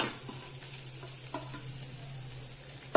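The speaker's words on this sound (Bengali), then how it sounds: "আলুর সেদ্ধটা দিয়ে মশলার সঙ্গে খুব ভালোভাবে ফ্রাই করে নিতে হবে" Mashed boiled potato frying with spices in a pan, a steady soft sizzle close by with a few faint stirring scrapes and a brief clatter at the end, no talk.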